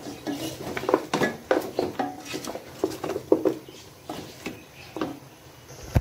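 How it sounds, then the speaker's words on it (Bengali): Nihari spices and ingredients, including onion, are stirred in a cooking pot, heard as repeated close clanks and scrapes of a spoon against metal. The strokes come in an uneven rhythm with short pauses between them. "এখন আমি এটাকে ভালোভাবে মিক্স করব"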